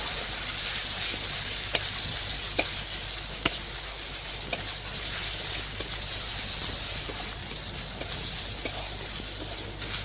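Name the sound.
stirring garlic, ginger, cumin, chili, spice paste with onions in pan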